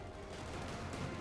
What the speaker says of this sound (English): For example, the incendiary ISG rounds.